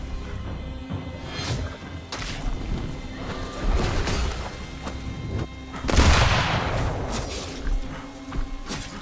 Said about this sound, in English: Just desperate shooting